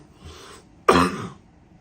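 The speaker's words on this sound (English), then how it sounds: "almost as miserable as this darn cough" A single short, harsh cough, close and fairly loud, preceded by a faint breathy throat sound, in a quiet room.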